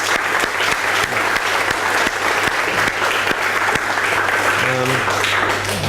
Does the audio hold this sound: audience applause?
yes